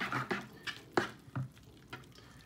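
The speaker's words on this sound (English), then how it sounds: "I'm just going to stir it up a little bit to make sure the cheese sauce gets permeated in the water" A fork stirs Velveeta cheese sauce into ramen noodles in a pot, producing a series of soft, quiet scrapes and wet sloshing clicks at an uneven rhythm, close by and alone.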